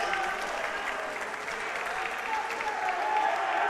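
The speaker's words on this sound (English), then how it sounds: "Oh, we got a lot of cheering on the far court." Applause and cheering rise from spectators at a far court during a school squash championship, a steady distant clatter of clapping with scattered voices over the hall's ambience.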